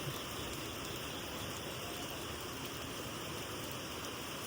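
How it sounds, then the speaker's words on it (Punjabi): Steady rain pours down with thunder and lightning about, during heavy monsoon rain in Punjab near the Ghaggar river, making a constant even hiss with no other sounds and no voices. "ਪੈ ਗਈ ਰਾਣੀਆਂ ਬਰਸਾਤ ਬਿਜਲੀ ਵੀ ਲਸ਼ਕਣ ਡਈ ਹੈ ਪੂਰੇ ਯੋਰਾਂ ਨਾਲ"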